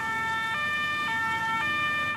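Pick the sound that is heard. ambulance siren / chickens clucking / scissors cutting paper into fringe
ambulance siren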